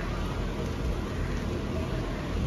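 Steady broadband hiss of rain easing off during a storm, heard from a sheltered spot, continuous and even throughout with no distinct drops or thunder.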